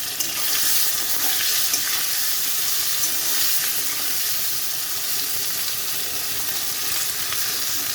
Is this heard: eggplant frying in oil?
yes